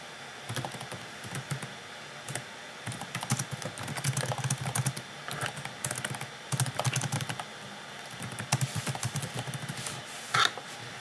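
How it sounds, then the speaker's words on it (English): Fingers tap quietly on a computer keyboard in irregular bursts of keystrokes, with short pauses between runs and one louder key press near the end, with no voices over it. "you would just type in the name of your actual prompt, whatever that is"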